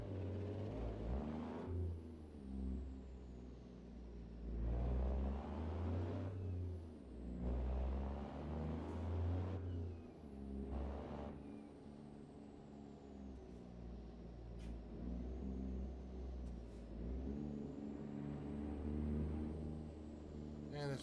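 A Western Star semi truck's engine revs and pulls hard, a deep droning rumble rising and falling through repeated gear climbs, close and steady under someone talking.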